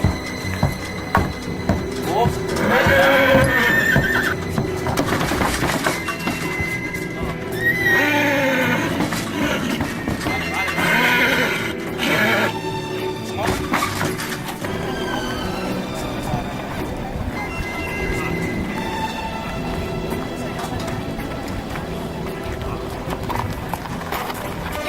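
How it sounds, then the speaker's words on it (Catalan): A horse whinnies a few times amid clopping hooves at a Tres Tombs procession and animal blessing, with people talking and a busy outdoor background throughout. "Cavall."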